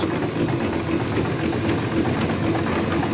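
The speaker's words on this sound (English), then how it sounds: "He was setting the engine in forward gear, ready to start the journey of the train" Steam locomotive Oliver Cromwell idling with a steady, dense chuffing hiss and a low mechanical rumble, continuous and fairly loud throughout, with no talk.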